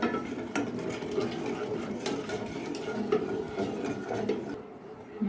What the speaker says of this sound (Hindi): मुसलसल चम्मच चलाते रहना है ताकि गुठलियाँ न बनने पाए दोनों साइडों से।